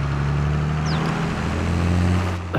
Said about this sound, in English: This is probably one of my favorite tractors.